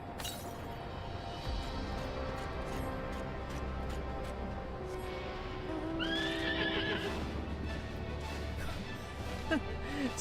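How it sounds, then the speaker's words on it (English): A horse in Final Fantasy XIV whinnies clearly midway through, its rising and falling neigh standing out over a steady bed of game ambience and music, with a few hoof-like clops around it. "It's so rare that you actually hear a horse neigh in this game like that."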